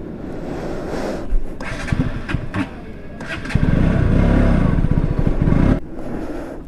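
A KTM RC 200 motorcycle engine idles and revs up nearby during a fuel mileage test, a loud, rough mechanical drone that steadies into a sustained run, with short bursts and a cutoff near the end.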